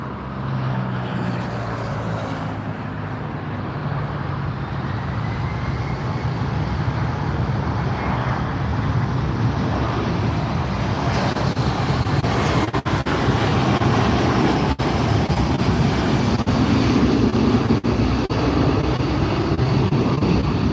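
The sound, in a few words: airplane arriving at LAX from Kalispell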